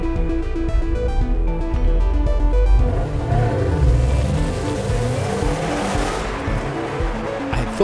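A Subaru WRX STi runs with a loud, continuous engine drone and shifting harmonics, rising and changing pitch as it drives, heard up close with no talking.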